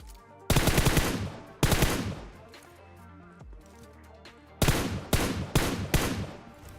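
Gunfire in PUBG Mobile, sharp loud bursts of automatic fire with rapid shot clusters, separated by quieter ringing gaps, close and dominant.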